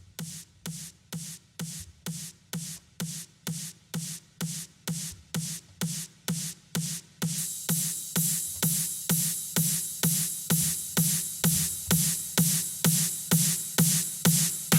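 A wide stereo ride cymbal enters over narrow build-up drum fills in an electronic track. A steady pulsing kick-like hit repeats for the first half, then a bright sustained ride wash joins on every beat, loud and continuous.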